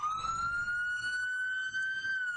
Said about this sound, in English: that's an all too familiar sound we hear now in New York City. So many ambulances, so many people being transported to hospitals